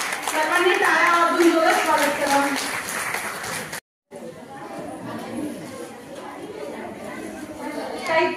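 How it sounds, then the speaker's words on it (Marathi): An audience at a community gathering claps to welcome someone, with the applause mixed with lively chatter and voices, then briefly cuts out before clapping and talk resume. "सर्वांनी टाळ्या वाजवून जोरात स्वागत करा"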